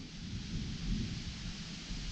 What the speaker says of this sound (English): Oh, the sky's grumbling.